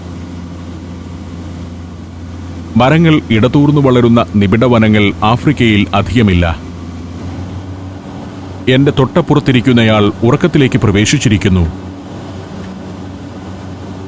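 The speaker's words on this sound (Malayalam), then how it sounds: "ജനവാസ പ്രദേശം പിന്നിട്ട് വിമാനം ഇപ്പോൾ വനമേഖലയുടെ മുകളിലേക്ക് എത്തിയിരിക്കുന്നു." A steady, low airplane cabin drone hums throughout a flight over forest in Tanzania, while someone narrates over it for most of the stretch.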